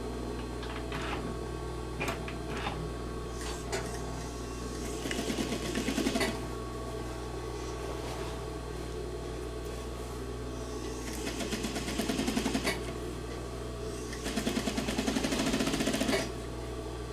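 A sewing machine stitches fabric while a waistband is fitted and backstitched, its motor whirring in short bursts between quieter pauses, with a steady low hum running throughout.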